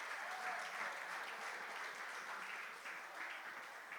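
Congregation clapping in a church service, a steady dense wash of many hands continuing throughout without speech, moderately distant.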